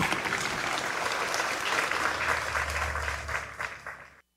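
Applause at a burial in a municipal cemetery in Cordeirópolis, Brazil, a sustained crowd of clapping heard at a moderate distance that fades slightly before stopping abruptly.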